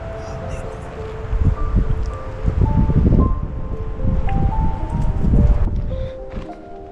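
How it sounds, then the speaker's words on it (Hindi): Strong storm-like wind gusting on a high mountain trek toward Gaumukh near Gangotri, a loud rushing roar buffeting the microphone in surging waves, with faint tonal hums in the background. "तूफान जैसा हवा चल रहा है"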